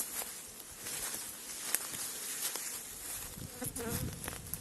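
Honeybees buzzing around apiary hives set among bushes near sunflower fields, a continuous close, droning hum with individual insects passing by, and occasional rustling footsteps outdoors.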